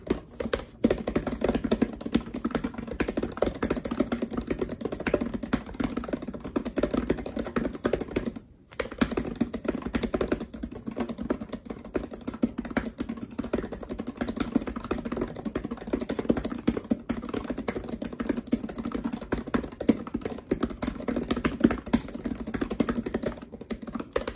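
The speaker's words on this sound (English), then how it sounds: "let's do a quick 30-second type test and we'll talk about the touch and feel" Fast steady typing on a Satechi aluminum wired membrane keyboard gives a dense, continuous patter of soft, muted keystrokes close by for about twenty-four seconds, with one brief pause partway through.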